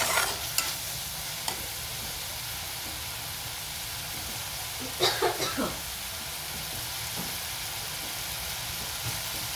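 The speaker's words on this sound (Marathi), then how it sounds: "हे असे आपले हे जे मसाले आहेत हे मंद आचेवरती शिजू द्यायचे" Masala spices for a Maharashtrian masoor dish cooking on a low flame, a soft steady sizzle throughout with a few brief stirring scrapes and clinks near the start and midway.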